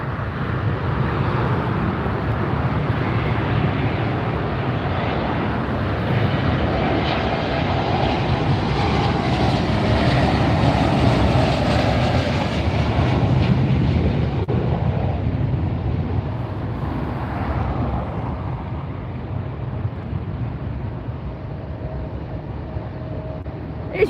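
An Airbus A321neo arrives at LAX, its jet engines giving a loud, steady roar that swells and holds for the whole stretch, then slowly eases off with a faint whine.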